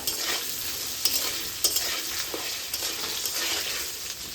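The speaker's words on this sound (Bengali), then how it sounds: "আলুটা ভালো করে ভাজবো নুন হলুদ দিয়ে।" Diced potatoes frying with salt and turmeric for muri ghonto, a bright, close sizzle under repeated scraping and stirring of a utensil in the pan, with no voices.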